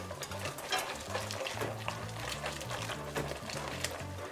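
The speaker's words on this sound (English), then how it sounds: "Putting in some Creole seasoning, stir that in." A spoon stirs Creole seasoning into a cheese sauce in a pot, giving continuous scraping and soft sizzling with faint clinks, steady and close.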